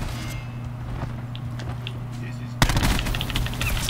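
In the Black Ops 4 multiplayer shooter, faint scattered shots come first under a steady hum, then a sudden loud burst of rapid automatic gunfire in close range, with cracks in quick succession.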